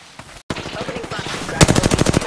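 Video game gunfire: a brief lull, then a rising stream of shots that breaks into a sharp, rapid automatic burst near the end, close and loud.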